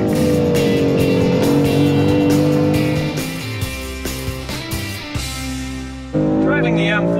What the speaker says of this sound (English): Driving the M4 here on the famous Road America circuit.